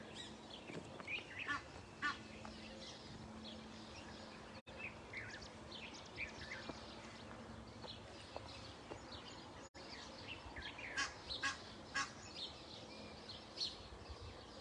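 Distant waterfowl calling intermittently over a steady outdoor background, honks and quacks scattered throughout, faint and far off.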